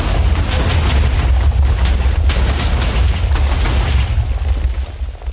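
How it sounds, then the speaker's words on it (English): A TNT blast in a modded video game, a loud, heavy explosion with a deep rumbling roar that sustains for several seconds. "Well, that's the explosion just by itself."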